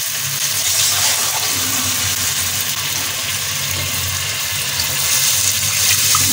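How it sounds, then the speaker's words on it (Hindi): Two glasses of water poured into frying masala for malka masoor dal, a loud, steady rushing hiss and sizzle that runs unbroken and close throughout, with no voices. "दो गिलास पानी डाल दिया इसमें।"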